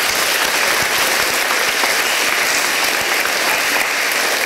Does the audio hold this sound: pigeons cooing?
no